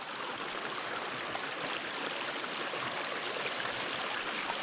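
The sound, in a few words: stream being crossed on foot, Réunion island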